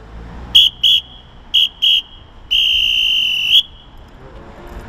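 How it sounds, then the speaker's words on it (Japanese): A shrill plastic echo referee whistle blown in four short blasts, then one long sustained blast, loud and clear against a quiet background. "こちらがね本物のプラエコー笛の音です。"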